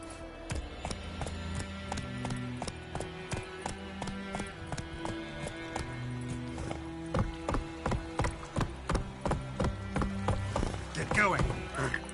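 Geralt's horse galloping in a video game, with steady rhythmic hoofbeats clopping in a fast, even pattern throughout, close and fairly loud over a musical game score.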